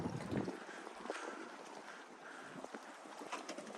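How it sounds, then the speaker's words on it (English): Water gurgles and sloshes among rocks in a man-made harbour in Tenerife, a soft, irregular churning with bubbling surges under steady wind noise on the microphone. "A lot of gurgling going on."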